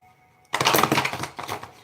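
Tarot cards being shuffled by hand, a dense burst of riffling, flapping card noise that starts abruptly after a quiet moment and continues at close range, loud and unbroken.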